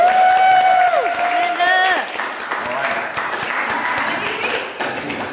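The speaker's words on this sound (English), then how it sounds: "Round of applause for Amanda." A live audience breaks into loud applause and cheering for a woman named Amanda, mixed with whoops and shouting, clapping continuing steadily and close after an opening burst of voices.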